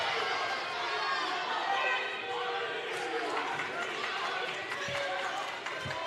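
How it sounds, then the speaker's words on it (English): A high school varsity wrestling meet crowd chatters and cheers in a gym, a steady indoor roar under an announcer's commentary with occasional thumps. "Lots of cheering from the other match."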